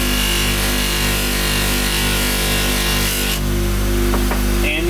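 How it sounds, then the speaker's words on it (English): A polishing machine buffs an SU carburettor part loaded with compound, a loud continuous whirring rub with a steady hum, changing as the part is moved against the wheel near the end. "And you start polishing."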